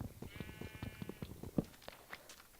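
Sheep bleating in the Minecraft video game: a wavering, vibrato bleat stands out near the start, with other game sounds such as crunches and footsteps beneath it, while no one speaks.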